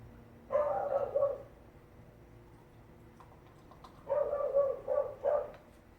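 A neighbour's dog yaps in two clusters of sharp barks, moderately close, separated by a few seconds of quiet.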